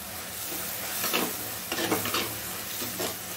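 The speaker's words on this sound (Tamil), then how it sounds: "மிளகாய் பொடி மஞ்சள் பொடி நல்லா செவந்து வரட்டும் பார்க்கலாம்." Chilli and turmeric powder frying in oil with onion and tomato for an anchovy curry, a thick hissing sizzle with a few stirring swishes, close and steady, no talking.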